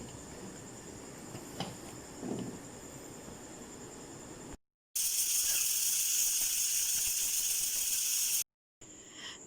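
A pressure cooker on a stove cooking turnip and meat curry (shaljam gosht), letting out a loud, steady, high hiss of steam for several seconds after quieter kitchen background noise, then cutting off sharply.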